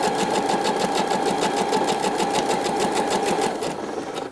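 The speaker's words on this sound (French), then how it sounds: "je fais les points d'arrêt et ensuite je pars en marche avant" Sewing machine stitching forward after backstitching on an ULLA blouse or dress, a fast even rattling hum of closely spaced needle strokes that slows and fades near the end, with no talk.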